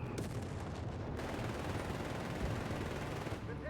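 Dense, rapid bursts of machine gun fire from Company of Heroes 3 battle, continuous and sharp amid other gunfire and rumbling, loud throughout with no talk over it.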